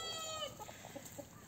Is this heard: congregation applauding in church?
no